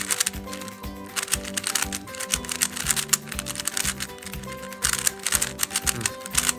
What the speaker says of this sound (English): Very high-pitched, clacky sort of cube.